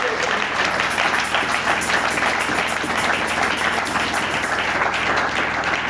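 Sustained loud applause from a church congregation, dense and even clapping with crowd noise carrying from start to finish.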